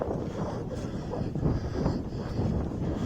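Strong wind buffets the microphone on breezy, high-up Cley Hill near Warminster, a steady low roaring rush with gusty swells and no voices.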